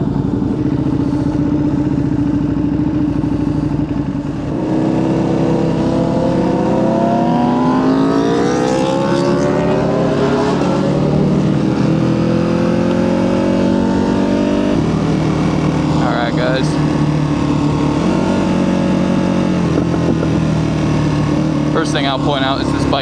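2023 Ducati Panigale V2 with Spark full exhaust, a loud close engine revving and accelerating through rising gear pulls, pitch sweeping upward and dropping between shifts, with a rider talking over it.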